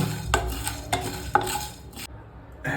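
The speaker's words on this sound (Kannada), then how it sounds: "ಚೆನ್ನಾಗಿ ಆ ಅರೋಮಾ ಬರೋವರೆಗೂ ಡ್ರೈ ರೋಸ್ಟ್ ಮಾಡೋಣ" Black pepper dry roasting in a pan for paneer kadi patta, with sharp scraping strokes of a spoon against the metal and a faint rattle of peppercorns, four or five distinct stirs close up, no talking.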